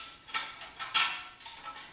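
Light metallic clicking and rattling as hose clamps on Harley-Davidson exhaust heat shields are loosened by hand tool, a few close, quick ticks and jingles with no talking.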